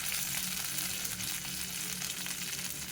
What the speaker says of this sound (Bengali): মাছটাকে উল্টে পাল্টে ভাজলে ভালো করে ভাজা হয়